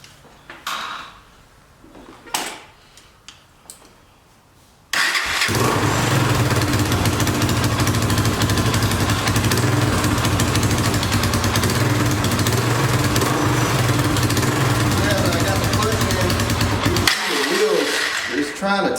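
A cheap 2006 Honda TRX300EX four-wheeler ATV engine catches after a few quiet cranking attempts, then runs loud and steady close by for most of the clip before the revs briefly drop near the end.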